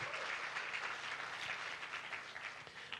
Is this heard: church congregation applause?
yes